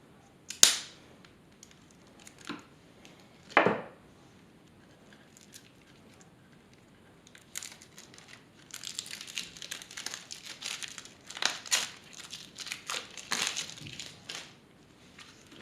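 Cardboard lid of a Time of Legend: Joan of Arc core board game box is pulled open, a few sharp scrapes and thumps followed by sustained crinkling of plastic wrap and shuffling components, close and fairly loud.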